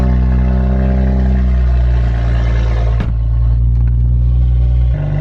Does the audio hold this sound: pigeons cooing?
no